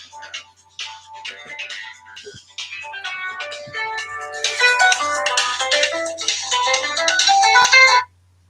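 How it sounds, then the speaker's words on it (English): A mobile phone ringtone plays a bright looping melody indoors, building louder over several seconds before cutting off abruptly. "My phone is ringing."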